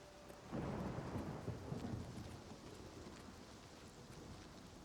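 Steady rain with a low rumble of thunder in the video game Oblivion Remastered, the thunder swelling early then fading under constant rainfall.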